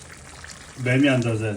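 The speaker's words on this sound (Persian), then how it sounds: "آب میدازم دوست عزیز" Water poured into a pot of browned beef tripe stew, a pouring splash starting partway through and running steadily to the end while someone talks over it.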